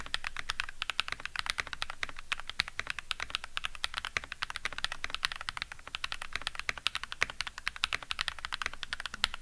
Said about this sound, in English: get a keyboard that looks and sounds like this